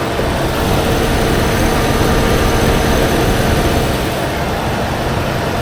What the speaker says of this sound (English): The compressor's running.